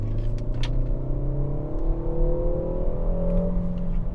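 A Peugeot 3008 SUV engine revs in sport mode from inside the cabin, a steady droning hum that rises gradually in pitch, moderately loud and continuous with no talk.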